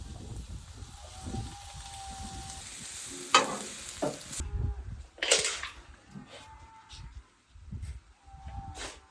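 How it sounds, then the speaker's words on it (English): Fajita vegetables sizzle and are stirred on a Pecos cooking table, a steady close frying hiss broken by scraping bursts of a spatula turning them, with no talking. "first step cooking these fajitas on our Pecos table. Got to get those veggies down."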